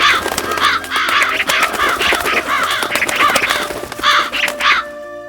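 Several crows caw loudly in repeated harsh bursts, a flock calling over one another in an uneven rhythm before fading out, used as a sound effect in a folktale narration.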